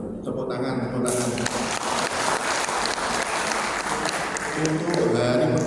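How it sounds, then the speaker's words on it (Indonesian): A crowd claps steadily for several seconds, with voices talking over the applause. "Tepuk tangan, tepuk tangan."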